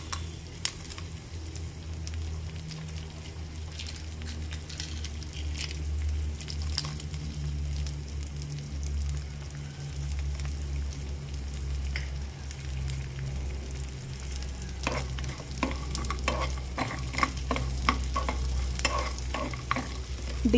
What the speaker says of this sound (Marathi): आता हा डिंक जो आहे तो छान तळून घ्यायचा आहे आपल्याला।